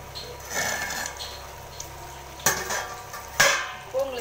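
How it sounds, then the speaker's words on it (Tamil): Lid set down on a pot of Tamil fish curry: a couple of sharp metallic clanks, with softer scraping and rattling of cookware in between, close and fairly loud. "இப்போ மூடி வச்சுக்கலாம்."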